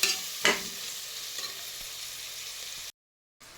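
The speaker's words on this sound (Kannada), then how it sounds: "ಈಗ ನೋಡಿ, ಈರುಳ್ಳಿ ಚೆನ್ನಾಗಿ ಫ್ರೈ ಆಗ್ತಾ ಇದೆ." Onions fry in hot oil, with a steady sizzle and two sharp stirring scrapes at the start. The sound cuts out briefly near the end.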